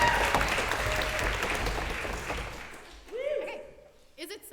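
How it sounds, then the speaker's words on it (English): Applause from an audience at a university debating society's executive debate, a dense wash of clapping that fades out over the final seconds as a voice begins to speak. "be met by a first round of applause"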